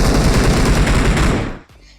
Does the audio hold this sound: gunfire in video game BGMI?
yes